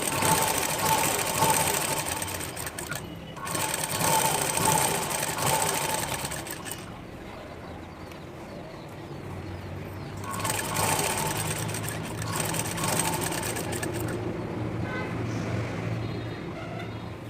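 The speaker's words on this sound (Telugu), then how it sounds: "ఇప్పుడు మళ్ళీ టాప్ స్టిచ్ ఇంకో కుట్టేయండి" A sewing machine top-stitches three layers of fabric on a long frock, running in long loud whirring stretches with brief pauses between them, close by and with no talking.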